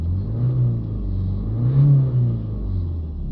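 A Ford Mondeo 1.6 engine with a boost sensor circuit fault, revved up and down at close range: a steady low engine drone rising and falling in smooth waves, with no voices over it.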